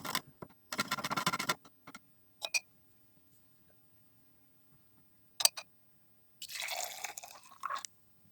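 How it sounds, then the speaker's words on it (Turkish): Hot solution of dissolved boiling-water mass is poured into a beaker in a home chemistry setup, heard as short separate bursts of splashing liquid with quiet gaps between and a longer pour near the end. "Üzerine kaynar su ekledim ve çözeltiyi bir behere döküyorum."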